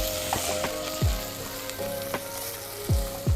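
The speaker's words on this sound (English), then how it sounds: "Now the onion already start to sweat." Chopped onion sizzles steadily in a hot pan for a Thai curry, with a few spoon scrapes and knocks against the pan mixed into the frying.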